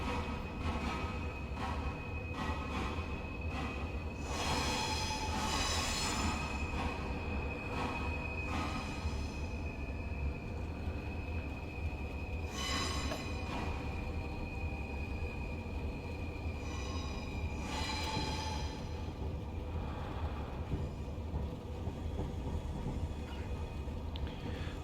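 In Train Simulator Classic, a Class 390 Pendolino train pulls slowly out of Birmingham New Street, a steady rumbling drone with recurring hissing and squealing bursts of the wheels, continuous and fairly loud with no talk.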